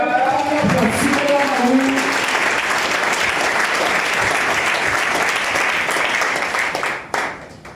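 A church congregation applauds together in sustained, dense clapping that fills the space, with some voices mixed in, before the applause thins and fades near the end.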